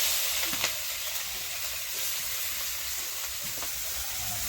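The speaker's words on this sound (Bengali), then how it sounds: "দিয়ে দিচ্ছি গোটা জিরে, দিয়ে দেবো কুচানো পেঁয়াজ, দিয়ে দিচ্ছি কুচানো পেঁয়াজ," Whole cumin seeds and chopped onion fry in hot oil, producing a continuous dense sizzle and hiss close by, with a few faint stirring clicks and no voices.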